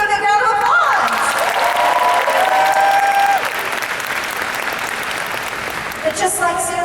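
An anime convention panel audience applauding for a guest, dense sustained clapping with cheers and a few whoops, tapering slightly before a voice talks over the end.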